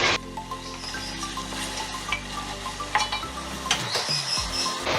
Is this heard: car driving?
no